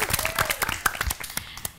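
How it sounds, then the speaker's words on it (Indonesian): Studio audience applause on a TVRI quiz show after a correct answer, a short burst of claps with speech-like sound over it. "Tepuk tangan"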